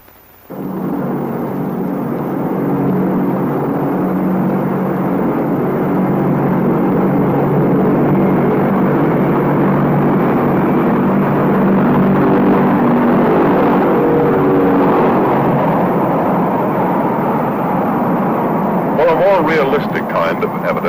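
B-36 and B-47 bombers roar overhead in a continuous, loud, broad rumble that holds for the whole stretch, under a spoken narration.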